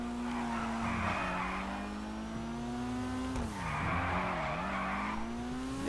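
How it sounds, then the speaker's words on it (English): Car in GTA drifting, with a revving engine holding a steady tone and two long bursts of loud tire squeal and skidding a few seconds apart, close and continuous, no speech. "Now I'm gonna start drifting and all that"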